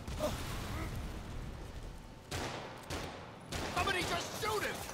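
Gunfire rattles through a battle in Marvel's Spider-Man Remastered on PS5: dense overlapping bursts and pops amid game noise, with a few sharper volleys toward the end.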